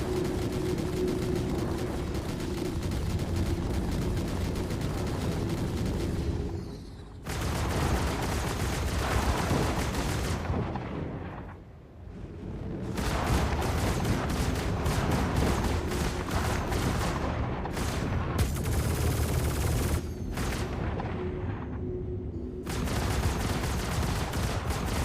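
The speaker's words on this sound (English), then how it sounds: "I wonder what staggered fire on ballistics is like." Staggered ballistic cannons fire in a video game, a dense, loud barrage of heavy booming shots rolling almost continuously for most of the stretch, broken by a few brief pauses.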